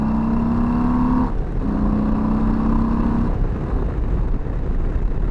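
A motorcycle engine pulls hard from 3,000 rpm, its steady droning tone climbing in pitch, breaking off briefly as a gear shifts, then rising again under loud, constant wind rush on a ridden road.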